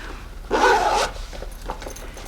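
A zipper on a handmade sewn bag is pulled in one quick half-second rasp, close and fairly loud, followed by faint rustling.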